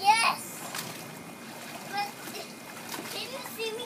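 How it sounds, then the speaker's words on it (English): A child jumps into a swimming pool with a short splash at the start, then gentle water sloshing follows while a child and an adult talk. "You wanna show him how you jump in the water?"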